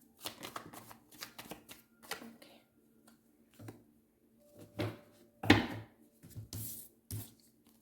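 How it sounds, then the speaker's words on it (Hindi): Tarot cards being shuffled and drawn by hand, heard as bursts of riffling and slapping card sounds in uneven clusters, close and fairly quiet, with brief pauses between handfuls and a few sharper taps near the end. "ये तो बहुत सारे गिरे हुए हैं, एक कार्ड और निकाल लेते हैं।"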